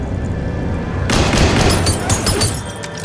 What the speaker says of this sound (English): Until the glass breaks.